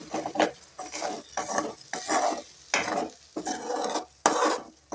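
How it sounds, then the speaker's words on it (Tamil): A tomato and egg mixture stirred in a pan, with a rhythmic run of scraping strokes, each a short burst, close and fairly loud. "இப்போ இது கிளறி விட்டுக்கலாங்க."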